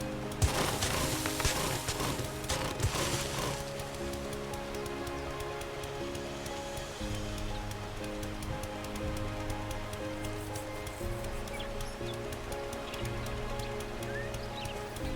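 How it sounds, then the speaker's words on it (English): Steady rain patters continuously in the video game 7 Days to Die, a dense hiss of drops layered over a low game background hum with no talk, lasting throughout. "It's already raining again."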